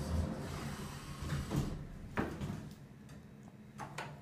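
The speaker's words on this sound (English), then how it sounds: "Here's the door closing." A hotel elevator door slides shut in a Holiday Inn Express, with a series of soft clicks and knocks as it travels and closes over a low motor hum.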